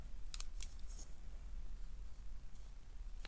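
Scissors snip through a piece of tear-and-tape while making an Easter bag and card, giving a few quick, faint cuts clustered early in the clip and one more at the end over a low steady background hum.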